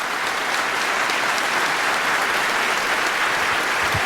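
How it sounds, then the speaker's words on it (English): Continuous applause fills a conference hall as a large audience claps at a hacker security talk. The dense clapping stays steady and loud throughout. "a big round of applause"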